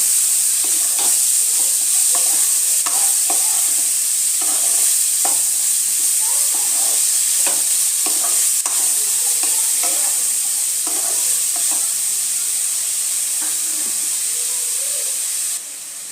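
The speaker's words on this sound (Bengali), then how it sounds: "লাউটা এবারে দিয়ে দেবো সাথে ভালো মতো লাউটা মিশিয়ে নেব" Bottle gourd fries in a pan for lau chingri, a Bengali gourd-and-shrimp dish, as it is stirred, giving a loud, constant hiss and sizzle over scattered scraping taps of the utensil, with no talk.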